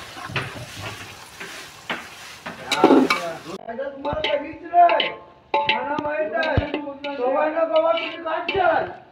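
Onions and mutton masala sizzle in a pan while a utensil stirs and scrapes in irregular strokes, close and fairly loud, with people talking over it.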